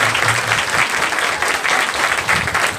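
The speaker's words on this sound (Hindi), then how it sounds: "आप ताली बजाएं।" A crowd at a Christian wedding ceremony claps steadily and densely, with loud applause filling the moment and a faint voice beneath it.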